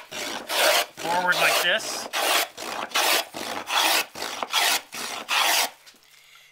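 A scrub plane pushed forward along straight-grain wood, a run of about nine rough, rasping strokes in steady rhythm, loud and close, with a brief spoken phrase near the start.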